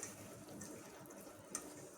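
Water poured from a tap or jug onto semolina (rava) in a bowl for soaking, a soft steady trickling splash running throughout at low volume with a faint clink near the end.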